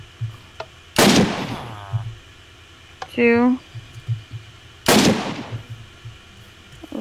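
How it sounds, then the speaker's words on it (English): Two sharp gunshots in a Minecraft map game, fired at targets from pressure pads during a training section, each a loud crack with a quick decay, spaced a few seconds apart; a voice counts between the shots. "Try shooting at these three targets while standing on the pressure pads to get the next area."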